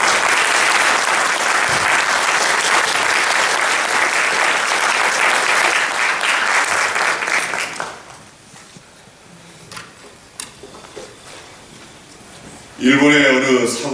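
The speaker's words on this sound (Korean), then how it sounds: "목사님 나오실 때 큰 박수로 맞이해 주시겠습니다." Applause from a church congregation welcoming the pastor to the pulpit at a 2016 Easter union service, loud and sustained for about eight seconds before fading into quiet room tone, then a brief burst of sound near the end.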